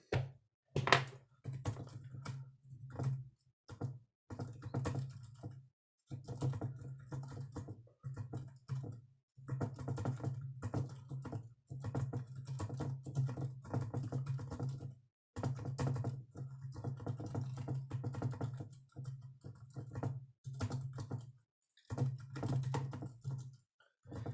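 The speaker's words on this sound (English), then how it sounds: "Maybe I should just type this out briefly because that will be faster." Typing on a computer keyboard in bursts of rapid clicking, separated by short pauses, with a low steady hum running under the keystrokes and no talking.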